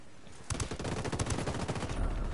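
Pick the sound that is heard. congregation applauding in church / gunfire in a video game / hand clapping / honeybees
gunfire in a video game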